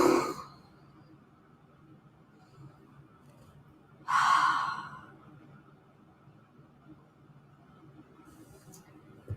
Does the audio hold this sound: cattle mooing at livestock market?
no